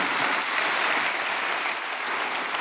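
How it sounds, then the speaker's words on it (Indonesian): A church congregation claps together during a worship service, a broad, sustained roar of applause that holds steady through the clip. "Berikan tepuk tangan kita untuk Tuhan kita."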